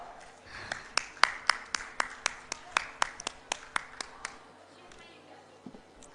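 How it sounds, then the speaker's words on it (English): A small audience at a maritime education session claps in a sparse round of applause, about fifteen distinct, evenly spaced handclaps that thin out and stop, followed by quiet room tone. "Let's welcome them all with a big round of applause."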